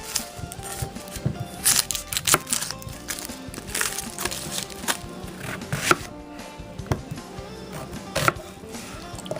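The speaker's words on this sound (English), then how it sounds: "I'm going to chop up 1 medium onion and 2 cloves of garlic" A kitchen knife chops a medium onion and two garlic cloves on a cutting board, a quiet string of uneven taps and knocks that keeps going throughout, with no talking.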